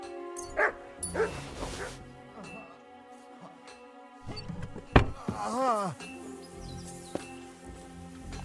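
A dog in the medieval game Kingdom Come: Deliverance 2 gives short yips and a whimpering, rising whine amid game ambience, moderately loud and close, with brief voice lines spoken around it.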